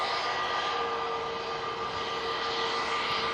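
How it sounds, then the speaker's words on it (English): An easyJet airliner descending to land at Manchester Airport, its broad engine roar steady and fairly loud throughout, with a faint whine layered over the rushing noise. "this Easyjet coming down in front of us"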